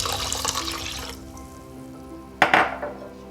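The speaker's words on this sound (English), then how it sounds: "I'll add 2 cups of water" Water poured into a pot for cooking rice: a splashing, hissing pour at the start, a quieter stretch, then a second short burst of splashing.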